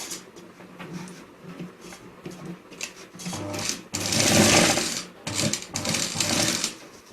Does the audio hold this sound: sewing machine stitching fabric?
yes